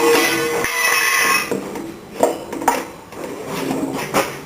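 Holes being punched through the top of a metal coffee tin: a few sharp metallic taps and clanks, spaced irregularly, close and fairly loud against a quiet background.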